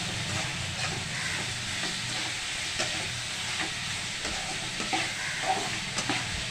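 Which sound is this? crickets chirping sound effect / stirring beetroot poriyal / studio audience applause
stirring beetroot poriyal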